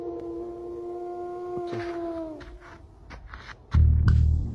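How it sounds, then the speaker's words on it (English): Animals howl at night in long sustained wavering tones, several voices overlapping from a distance, fading out before a sudden loud low rumble near the end. "Okay, now I hear the howling."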